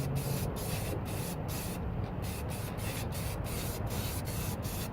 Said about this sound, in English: I'm going to take the Krylon here because Krylon is a lot better for misting